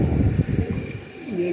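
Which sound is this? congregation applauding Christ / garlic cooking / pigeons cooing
pigeons cooing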